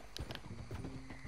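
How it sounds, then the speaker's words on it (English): Horse hooves clip-clop in a few quick, soft beats in Red Dead Redemption 2, faint and brief. "You know, let's ride a horse."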